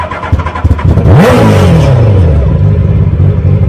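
An off-road racecar engine cranks, fires up and revs hard, the loud rising roar settling into a rumbling idle close by.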